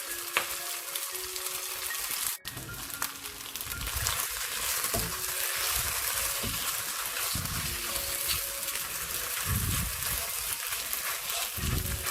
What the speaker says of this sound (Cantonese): 咁呢個腸粉咧，可以稍微煎一煎佢先，唔好喐佢。